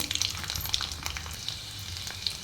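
Cumin seeds, garlic and mustard seeds sizzle steadily in hot oil for tomato chutney, a close, dense crackle with small pops that runs for a couple of seconds, with no voices.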